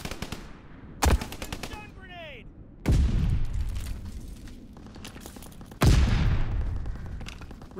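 Aircraft strafing gunfire in Call of Duty WW2 rips through in three rapid, loud bursts spaced a couple of seconds apart over a steady battle din.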